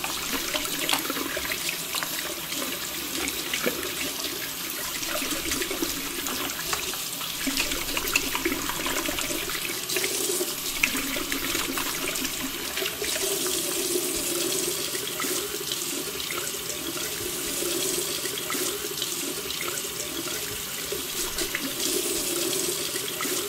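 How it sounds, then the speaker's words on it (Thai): Tap water runs steadily into a kitchen sink holding fruit for the whole stretch, a continuous, fairly close splashing rush with small shifts as the stream hits things below. "เอาผลไม้ของเราใส่ไว้ในซิงค์เลยนะคะ"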